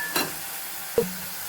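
Spices tipped into a pan of frying tomato masala give a faint, steady sizzle with two short clunks of stirring, one near the start and one about a second later.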